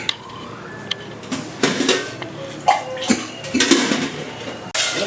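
Water pours and splashes into a metal cooking pot on a stove in short bursts, a tumblerful for sambar, with light clinks of cookware, close and fairly loud.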